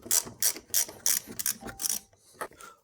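Ratchet clicking as it loosens the 10 mm screws holding a side mirror on a Jeep WJ, in several short bursts of rapid pawl clicks separated by brief pauses, close and fairly quiet.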